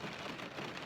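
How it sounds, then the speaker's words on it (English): Steady rain falling outdoors on a day hike toward Wayah Bald on the Appalachian Trail, a dense, even hiss with no breaks and no voices. "But it is raining."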